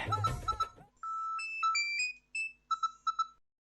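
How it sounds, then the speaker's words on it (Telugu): A phone ringtone plays a bright melodic sequence of electronic tones, then repeats short beeping notes, following a brief moment of speech. "ఫోన్ లిఫ్ట్ చేయనా? లేదంటే వదిలి వెనక్కి వెళ్ళిపోతుంది."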